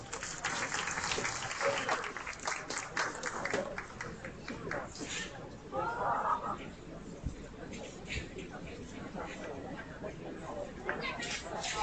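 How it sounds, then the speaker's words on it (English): Steady applause from a crowd at a county fair beef show after a class of steers, clapping sustained and dense throughout, with a voice briefly over it. "Let's give them all a round of applause."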